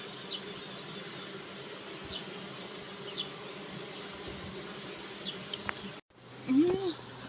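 Honey bees at a queen-rearing apiary buzz in a steady, faint drone, with individual bees passing close now and then. Near the end, a louder handling noise and a short vocal sound break in.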